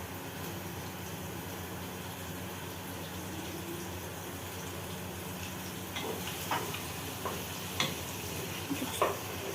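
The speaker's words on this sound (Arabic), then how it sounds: "بعد ما الزيت سخن خالص هنحط دلوقتي الايه؟ البصل بتاعنا." Onions for Egyptian koshari fry in very hot oil, giving a steady broad sizzle throughout, joined in the later seconds by intermittent clicks and scrapes of stirring.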